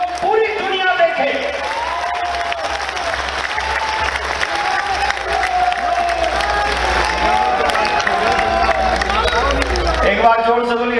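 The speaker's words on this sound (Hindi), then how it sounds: "जोर से एक बार इस युवा देशभक्त धर्म भक्त के लिए ताली बजाइए" A large crowd claps and cheers for a young speaker at a religious gathering, dense sustained applause with whoops, while someone talks loudly over it.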